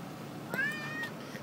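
A single cat meows twice in quick succession, a rising then falling mew, fairly close against a quiet room.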